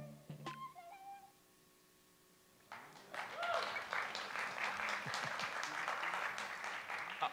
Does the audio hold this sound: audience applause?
yes